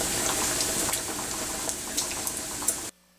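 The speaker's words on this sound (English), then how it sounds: "Drain the pasta." Boiled spaghetti pours out as its cooking water drains in a steady, close, wet rush with small splashes, stopping abruptly near the end; no voices.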